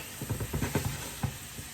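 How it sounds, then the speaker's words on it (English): Steak searing in a hot pan over raised heat for a hibachi-style dinner, a steady sizzle with soft crackling pops, close and fairly quiet. "I did turn my heat up at this point because I do want a nice sear on the steak."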